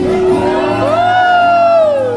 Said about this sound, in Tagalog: Isang malakas na sigawan, everyone!